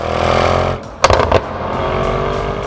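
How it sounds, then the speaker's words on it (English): Mercedes-AMG GT 63 S exhaust rumbling steadily, then a brief burst of sharp crackles and pops before the steady drone resumes, heard close and loud with no talking. "modern AMG exhaust won't arouse you as much"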